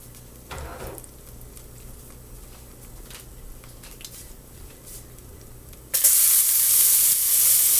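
Garlic hits a hot pan beside seared large scallops, breaking into a sudden loud, bright sizzle near the end after a quieter stretch of faint frying and occasional clicks.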